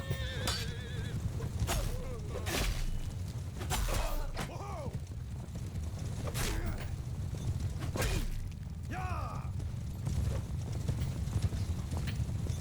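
Rhythmic clip-clop of horse hooves in Mount & Blade II: Bannerlord, with occasional neighs and whinnies, over a steady rumble of battle noise and scattered whooshes.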